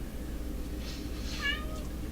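A house cat lets out a single short meow near the middle, fairly close but modest in level, over a constant low electrical hum and background noise.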